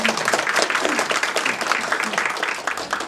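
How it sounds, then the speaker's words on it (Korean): Audience applause at a radio awards ceremony, a dense wash of clapping that holds steady for a few seconds, with a voice faintly audible beneath it. "박수 주십시오"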